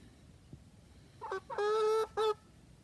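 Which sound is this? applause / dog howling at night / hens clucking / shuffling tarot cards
hens clucking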